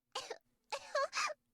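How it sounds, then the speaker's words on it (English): A woman's short, strained coughs from a video game, D.C.~Da Capo~, in two quick bursts with a brief pause between, fairly quiet, with no other sounds around them. "Their performance stops with her coughs."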